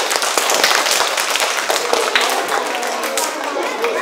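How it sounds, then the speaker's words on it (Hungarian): A group of children claps at a Hungarian author and reader meeting, a dense burst of sharp, close handclaps that spreads into scattered clapping for about four seconds. "Tapsoljuk meg őket a bátorságukért!"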